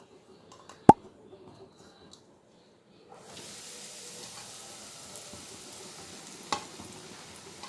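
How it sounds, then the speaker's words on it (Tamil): Bread slices toast in ghee in a pan: after a sharp clatter and a near-silent pause, a soft, steady sizzle rises and continues, with one brief clink partway through. "இப்போது இதே நெய்யில் நம்ம பிரெட்டை டோஸ்ட் பண்ணிடலாம்."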